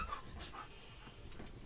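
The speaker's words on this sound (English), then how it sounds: "The dogs have arrived as well." Dogs panting as they arrive indoors, quick soft breathy puffs near and faint over a low room hum.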